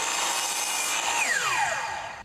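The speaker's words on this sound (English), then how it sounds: "I'll start by cutting all of those on the miter saw" A miter saw cuts through wood pieces for a cart build, a steady loud whine that carries through the whole cut, with the blade pitch sliding down near the end before the noise cuts off abruptly.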